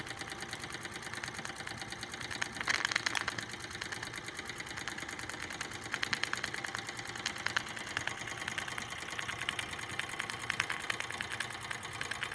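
A Wilesco D455 model steam engine runs slowly and smoothly, its steady rhythmic chuffing and light mechanical ticking continuing without pause, close and moderately quiet.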